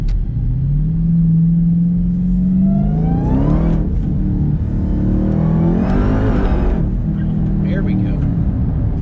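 A 1,000 HP Dodge Hellcat Redeye goes to full throttle, its engine rising through two loud, climbing revving pulls with a deep rumble from inside the car.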